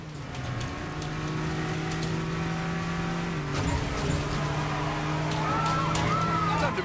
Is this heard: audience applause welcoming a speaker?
no